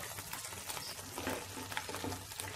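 Partly fried chicken pieces dropping into simmering butter chicken gravy in a pan, giving a low, steady bubbling sizzle with soft stirring scrapes, moderately quiet and close, with no speech.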